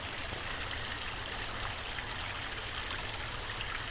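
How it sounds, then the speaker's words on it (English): Water splashes steadily from an aquarium waterfall filter with air bubbles fizzing through the tank, a continuous close trickle and gurgle with no talking. "So I can hear the bubbles, I can hear the waterfall, I cannot hear the pump."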